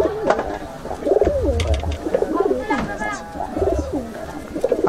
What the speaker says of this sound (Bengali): অনেক বাজি ভালো কবুতর